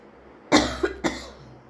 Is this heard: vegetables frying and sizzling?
no